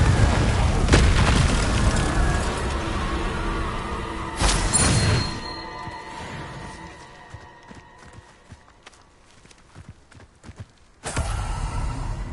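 Confringo blasting spells explode during combat in the video game Hogwarts Legacy: loud, broadband booms burst out, one sharp blast near the middle and another near the end, over a rumbling background with footstep-like thuds.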